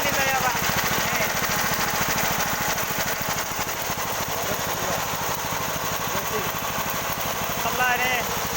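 Sawmill machine engine running during a test, a steady, rhythmic mid-pitched throb close by, with people talking over it.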